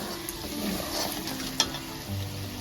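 Fried chicken pieces go into a kadai of cooked-down masala for chicken biryani, giving a moderate frying sizzle with soft stirring scrapes and a single sharp clink partway through.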